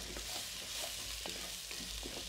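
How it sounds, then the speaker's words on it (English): Salted onions and crispy potato bits are stirred in a pan for a potato and courgette stew, with a steady soft sizzle and a few light scraping strokes, fairly quiet and close. "give it a little stir"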